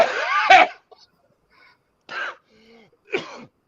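A person coughs and clears their throat in a few separate harsh bursts, close and loud, with silent gaps between them.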